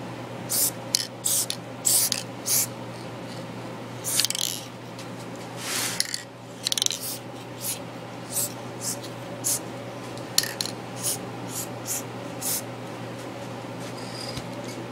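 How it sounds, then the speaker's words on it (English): Repeated short hissing bursts of aerosol spray adhesive onto a taxidermy base, some longer, some quick, over a steady low hum. "So I'm using Elmer's spray adhesive. I'm just going to spray most of the base."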